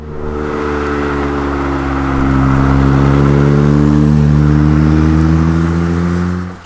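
A Dax replica of a Lotus Seven, built as a rally car with a Ford Sierra Cosworth engine and four-wheel drive, holds a loud, steady, close engine drone that climbs gradually in pitch before cutting off abruptly.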